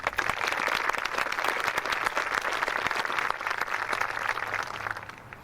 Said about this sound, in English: Please join with me in a round of applause